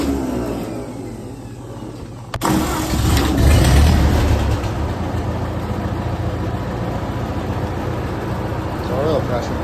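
A 1950 Ford 8N tractor engine cranks and catches with a sudden burst, revs briefly, then settles into a steady, close, rumbling idle with a low throb.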